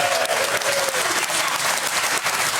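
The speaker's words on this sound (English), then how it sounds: "Round of applause." Studio audience applause on a sports panel show, a loud, continuous wash of clapping from a large crowd filling the whole moment.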